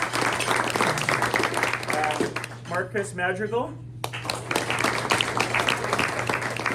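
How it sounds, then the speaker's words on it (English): A luncheon audience at a press event applauds steadily, a broad wash of clapping running under a voice as he speaks over it. "Let's give him a round of applause."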